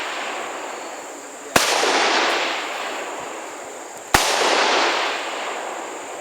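Two loud AR-15 rifle gunshots a few seconds apart, each a sharp, close crack followed by a long, broad echoing decay outdoors, with no talking.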